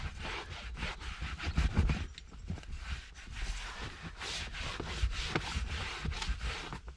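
Microfiber cloth wiping down a leather surface during cleaning, a close run of soft rhythmic rubbing strokes with no voices over it.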